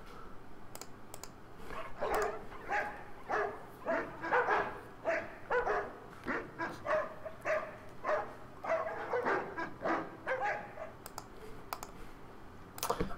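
Dogs bark in a rapid repeated series, about a dozen sharp yaps in quick rhythm at moderate distance, with brief pauses between bursts.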